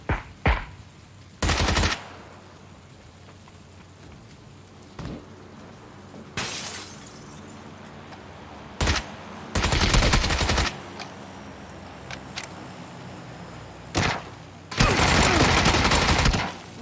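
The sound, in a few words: gunfire in the video game PlayerUnknown's Battlegrounds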